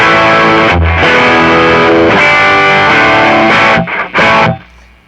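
A Whitfield custom Telecaster electric guitar played through an amp's distortion channel rings out loud, thick, saturated chords that sustain and then break into a couple of short choppy hits near the end.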